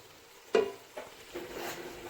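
Aloo gobi, potatoes and cauliflower, is stirred while frying in a pan: a few soft scraping swishes rise over a low, faint sizzle.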